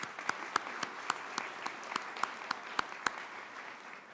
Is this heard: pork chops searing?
no